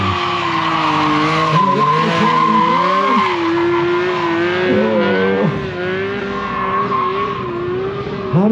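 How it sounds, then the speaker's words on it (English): A BMW stunt motorcycle at a vintage festival stunt show spins and skids its rear tire, giving a loud continuous squeal that wavers and bends in pitch over a steady engine drone, with no talk. "I don't think that tire stops spinning from end to end."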